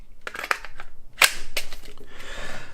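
A Glock 43X pistol slide is fitted onto its frame rails and snaps into place with a few sharp metallic clicks. The clicks are close and fairly loud, with no one speaking.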